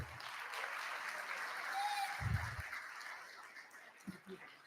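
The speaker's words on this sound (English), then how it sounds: "So I'd like to give them a big round of applause." Applause at a board meeting: soft, fairly distant clapping from a room of people, low in level, with a brief tonal whine and some low thumps and murmurs mixed in.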